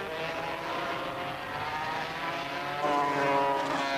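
A Honda racing motorcycle engine at the 1985 Le Mans Grand Prix, a sustained high droning whine with steady harmonic tone that rises in pitch and loudness near the end as the bike passes, with no voices.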